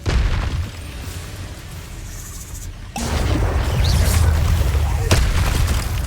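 Incendio fire spell cast in Hogwarts Legacy: a sudden booming whoosh of flame mid-clip over busy game sound, with a voice speaking.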